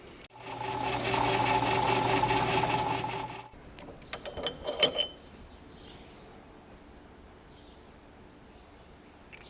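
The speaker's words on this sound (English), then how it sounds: "Just gonna go ahead and chamfer this edge real quick" A metal edge being chamfered in a tractor-repair workshop, a steady buzzing grinder run for about three seconds, then scattered clinks and handling noises before a quiet room.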